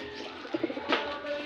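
A pet bird, likely a pigeon or dove, gives a short burst of soft coos up close, rising to a quick, brighter call before fading.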